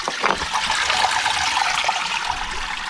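Clear mountain stream water flowing steadily along the Appalachian Trail, a continuous close rushing and trickling with no voices.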